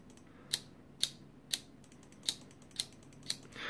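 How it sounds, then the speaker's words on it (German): A model railway turnout motor switches rapidly back and forth, producing six sharp, evenly spaced mechanical clicks about half a second apart, close and crisp over a quiet background. "Wir simulieren das mal schnell mit einem schnellen Hin- und Herschalten"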